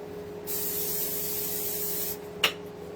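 A hissing spray of Pam cooking oil onto a pan starts, runs steadily for under two seconds, then stops, followed by a brief sharp tap over a low hum.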